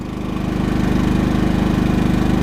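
A Champion 2000 inverter generator's small engine runs steadily right after a remote start, a loud, even mechanical drone with a fast regular pulse, alone without talk.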